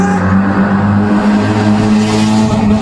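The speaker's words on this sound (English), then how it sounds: "Sorry about the car noise." A loud, steady car engine drones close by with a low rumble and faint tonal whine, continuous throughout, with no voices.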